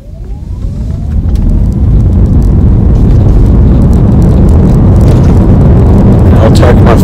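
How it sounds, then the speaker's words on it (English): An electric vehicle accelerates at full throttle in EV mode, a loud steady broadband drive rumble building in the first second and then holding strong throughout, with a faint rising whine early on. "I'll press the throttle all the way to the floor on the count of three"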